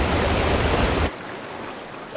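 A cartoon waterfall roars as a loud, steady wash of broadband rushing water that drops abruptly to a quieter, softer rush about halfway through.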